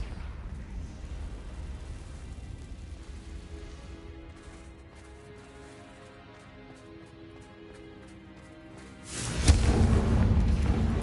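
A Confringo fire spell explodes in Hogwarts Legacy: a quiet stretch of faint ambience and soft clicks, then a sudden loud booming blast near the end that rumbles heavily and lingers.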